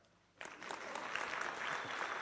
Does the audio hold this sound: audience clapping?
yes